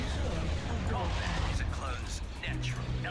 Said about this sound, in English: Bombing run inbound.